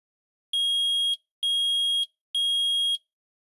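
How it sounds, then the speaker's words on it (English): A metal detector alarm in the Phoenix Wright Ace Attorney video game gives three identical shrill electronic beeps, evenly spaced and loud over silence. "Sounds like a fire alarm."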